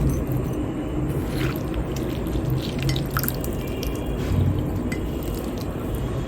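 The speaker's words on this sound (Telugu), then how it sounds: "ఈ నీళ్ళన్నిటినీ గట్టిగా పిండేసి ఓన్లీ ముక్కలు మాత్రమే తీసుకుంటున్నాను" Salted, soaked pumpkin pieces squeezed hard by hand to press out their water, giving continuous wet squishing with drips and trickles, close and moderately loud.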